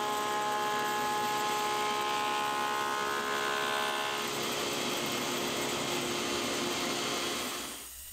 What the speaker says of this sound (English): I can clean off all the glue squeeze out with a sander and then flatten it on my thickness planer